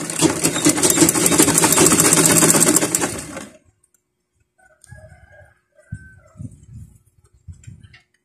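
A sewing machine stitches a fabric scrunchie in a steady, fast, close whirring run for about three seconds and then stops, followed by quieter intermittent handling noises and a distant rooster crowing.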